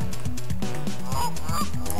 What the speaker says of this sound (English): Those geese look honking mad.